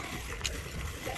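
Water pours steadily into a container for a homemade liquid body wash, a soft, continuous, fairly quiet splashing stream lasting about a second.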